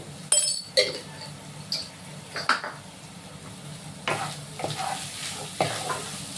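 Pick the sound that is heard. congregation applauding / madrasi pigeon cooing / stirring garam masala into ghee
stirring garam masala into ghee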